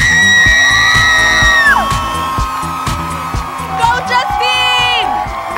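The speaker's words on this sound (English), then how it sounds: "I could hear everybody screaming and cheering." Loud whoops and yells from a lively crowd at a quinceañera, with high excited voices rising and falling over a busy, continuous din.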